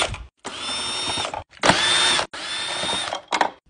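Power drill unscrewing the feet from an upside-down TV, heard as three strong whirring bursts with rising pitch, separated by brief pauses and ending in short clicks; close and loud with no speech.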